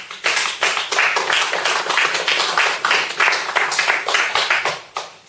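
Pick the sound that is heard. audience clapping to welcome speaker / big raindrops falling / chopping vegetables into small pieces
audience clapping to welcome speaker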